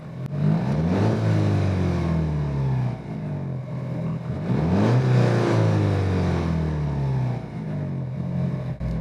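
An Alfa Romeo sports car engine revs up, drops, then revs again in two long swells, loud and close with a deep, rough exhaust tone.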